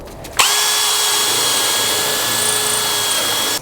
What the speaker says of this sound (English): I was really struggling to not drill and keep going through the roof